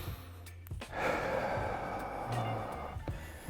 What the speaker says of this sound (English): taking a couple deep breaths